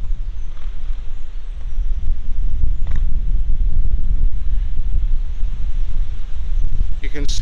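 Gusty outdoor wind buffets a MOVO VXR 10 external microphone, giving a steady low roar that swells and eases with the gusts, with no clear voices over it.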